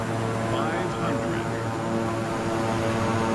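Aircraft engine drone in Microsoft Flight Simulator, a steady, loud, continuous hum running throughout beneath people chatting.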